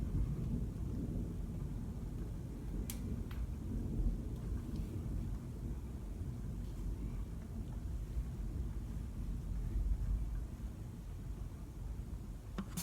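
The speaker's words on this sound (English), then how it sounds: "that entire segment where we were just quiet was just one really long thunder" A long, low rolling thunder rumbles continuously during a heavy rainstorm, with a steady wash of rain and a few faint crackles on top, moderately quiet and without talk.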